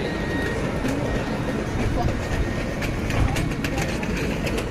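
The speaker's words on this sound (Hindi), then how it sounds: "और ये जा रही है हमारी रंगीली मेट्रो लक्स एक्सपो की तरफ।" A Luxembourg metro tram heading toward Luxexpo rolls past with a steady, loud rumble and rail clatter that fills the whole moment, close by and continuous, with a faint voice underneath.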